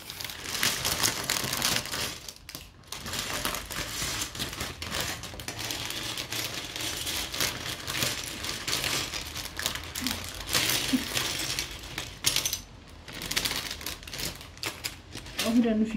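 A plastic bag of Lego Star Wars TIE Fighter pieces is handled and torn open, crackling and crinkling in bursts with small bricks rattling, while someone speaks intermittently throughout.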